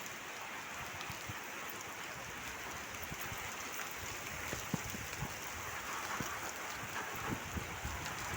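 Morning rain pouring steadily outdoors, a dense, even hiss with scattered drop patter on nearby surfaces, no voices.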